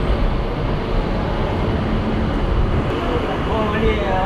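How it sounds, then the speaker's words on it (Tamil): A train rolls slowly into Arakkonam Junction railway station in Tamil Nadu with a steady, loud low rumble and wheel noise, heard from on board and unbroken for several seconds. "இப்போ நம்ம அரக்கோணம் ரயில்வே ஸ்டேஷனுக்குள்ள மெதுவாக என்டர் ஆகிட்டு இருக்கோங்க"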